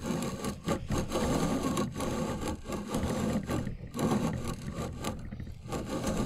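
A grain mill grinds wheat into flour with a continuous gritty, scraping rumble, broken by rhythmic pulses and brief pauses as it is turned, heard up close with no talking.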